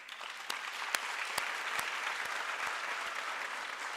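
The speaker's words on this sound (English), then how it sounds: "I would like to request this august audience to give you a round of applause." Steady audience applause fills an oath taking ceremony hall for health sciences graduates, a dense continuous patter with a few sharper individual claps standing out, moderately distant and without speech.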